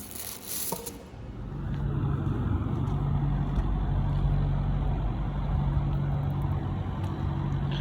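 Steady road traffic with cars and trucks idling and rumbling nearby in Alberta wildfire smoke, a dense continuous low engine drone after a brief quieter start, with no talk.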